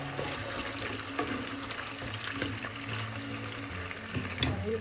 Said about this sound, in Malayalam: ചെറുതായി ഒന്ന് ബ്രൗൺ ആവുന്ന വരെ ഒന്ന് ഫ്രൈ ചെയ്യാം